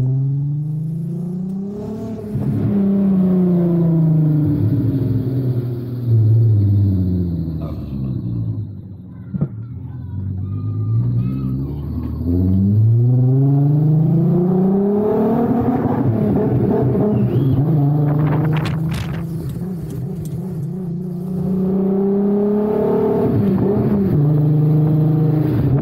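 Up close, a Nissan Skyline R32 exhaust roars through a series of revs, the pitch sweeping up and down again and again with short lulls between.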